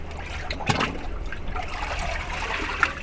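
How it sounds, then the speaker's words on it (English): A K-series valve cover is dipped into a wash of water and baking soda, giving a soft, close trickling and dribbling of liquid with a couple of small splashes, without any talk. "And then I bring it over here to the chemical wash solution. It's just some water with some baking soda."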